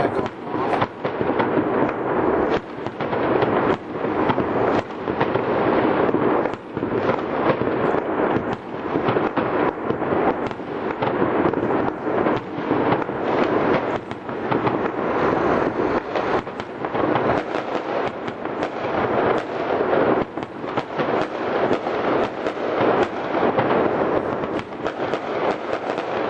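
Aerial bomb fireworks burst in a rapid, near-continuous barrage of loud cracks and booms, overlapping one another for the whole stretch, with occasional faint voices underneath.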